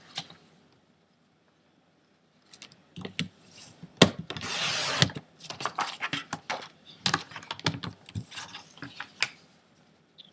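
Cardstock being cut to 6.5 by 2.25 inches while making a Valentine lollipop wrapper: a run of dry crisp slicing and rubbing strokes with a louder sustained cut near the middle, close and fairly loud, with no talking.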